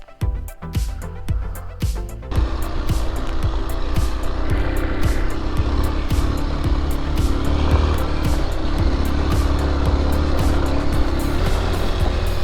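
Kawasaki KLX230 motorcycle riding through dry, hot countryside in India, a close continuous engine drone with wind roar that swells in after a few choppy bursts at the start.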